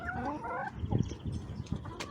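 Several laying hens for sale at a poultry market cluck and squawk close by, overlapping calls in quick succession with a busy barnyard background.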